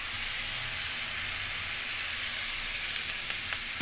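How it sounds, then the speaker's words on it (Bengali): Cabbage and rohu fish head fry in a pan as green chillies and a splash of water go in, giving a steady, even sizzle and hiss that runs without a break and without any voices. "এখন আমি 4টা চিড়ে কাঁচা লঙ্কা দিয়ে দেব, আর একটু জল দিয়ে দিব।"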